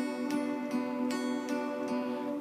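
An electric guitar riff played with a wah pedal held down: repeated, evenly spaced picked notes over a sustained, filtered tone, steady and fairly close.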